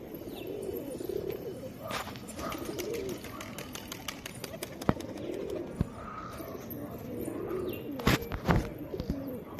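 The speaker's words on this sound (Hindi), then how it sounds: "ये देखिए अपने कबूतर भाई बैठ रहे हैं।" A flock of domestic pigeons coos steadily while settling onto a loft, with occasional chirps, wing flutters and a few sharp flapping bursts near the end.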